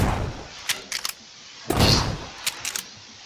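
A gun fires in the Minecraft Create: Love And War mod: scattered sharp, punchy shots come in small clusters, with one heavier, longer blast near the middle, all at moderate loudness against a quiet background.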